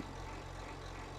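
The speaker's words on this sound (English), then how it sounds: "Absolutely love the sound of this New Holland idling." A New Holland tractor engine idles in Farming Simulator, a steady, low, rumbling drone with an even hum and no breaks, heard alone throughout.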